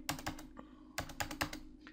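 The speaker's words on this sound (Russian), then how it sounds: "Значит, вводим номер карты." Card number keyed in on a computer keyboard during an online school payment: two quick bursts of close, crisp key clicks separated by a brief pause, with no voices.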